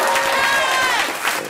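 A stand-up comedy audience cheers and applauds in a brief, dense burst of clapping and whoops filling the room.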